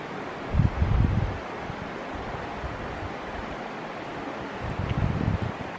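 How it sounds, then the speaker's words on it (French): A forest stream in the Russian Far East flows with a steady, even rush of water, with brief louder surges near the start and end and no voices. "À écouter le bruit du ruisseau"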